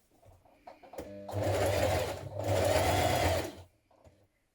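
A sewing machine top-stitches around a dress neckline in two sustained, even runs of rapid whirring, separated by a brief pause, close and clear with a few soft handling clicks before and after.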